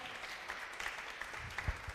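Scattered applause from an audience at a school reading competition prize-giving ceremony, brief and fairly faint, with a few louder claps poking out near the end.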